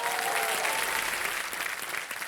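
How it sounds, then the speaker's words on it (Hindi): Studio audience applause for a quiz-show contestant's wife and parents seated behind him, a dense, steady wash of clapping that holds loud and even throughout. "तालियां बज जाए इनके लिए।"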